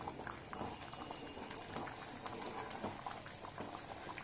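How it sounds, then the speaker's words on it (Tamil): Pea kurma bubbles in a cooking pot on the stove, a steady, fairly faint simmering of popping bubbles and soft plops throughout. "நல்லா கொதிக்க ஆரம்பிச்சிருச்சுங்க"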